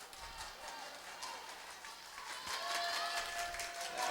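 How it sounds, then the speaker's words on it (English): A crowd of fans in a gym cheers at a girls' high school volleyball match between Troy and North Farmington, a steady roar of shouting and clapping that swells louder toward the end, with an announcer's voice faint underneath. "The crowd is getting very fired up."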